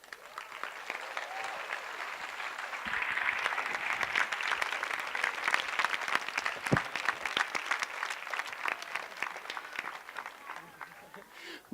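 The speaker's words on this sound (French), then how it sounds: "je vous remercie d'applaudir chaleureusement" An audience applauding warmly for speaker André Stern, sustained clapping that swells, holds at full strength for several seconds, then thins out, with some voices underneath.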